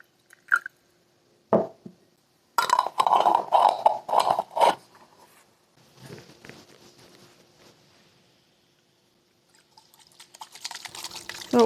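Water splashes and pours in short bursts while lanolin extracted from sheep's wool is rinsed by hand, with irregular sloshing and dripping close by and quieter gaps between, no talking.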